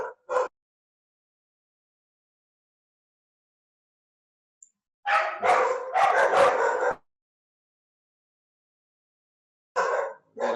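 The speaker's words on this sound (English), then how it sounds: "There are some dogs outside." Several dogs bark outdoors in short bursts, a couple of quick yips at the start, a longer cluster of barks midway, then another burst near the end, with silence between; no one speaks over them.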